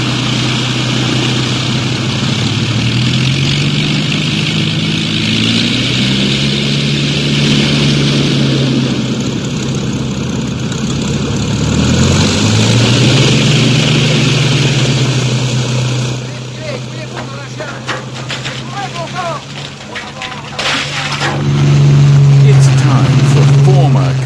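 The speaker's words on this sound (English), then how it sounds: "here's my new best friend, a Spitfire with room for two" The engine of a two-seater Spitfire runs with a steady, heavy droning roar that shifts in pitch now and then, holding loud throughout with a brief dip before swelling again near the end.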